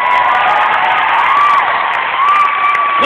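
Crowd cheering and whooping with applause for stage helpers at an evening show, a dense, steady roar of voices and clapping throughout, with a whistle-like tone riding on top.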